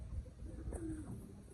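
A single soft pigeon coo, low and rounded, rising then falling briefly against a quiet outdoor background.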